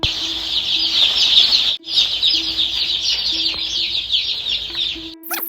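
Desi Gavran chicks chirp loudly and constantly at close range while being moved between brooders, shrill peeping filling the whole stretch with a brief pause and some rustling and wing flutter.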